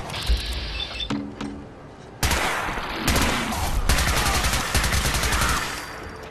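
Weapon fire in Fallout 4's Far Harbor expansion: a short burst near the start, then long sustained rapid automatic fire close up, loud, with mechanical clicks in between.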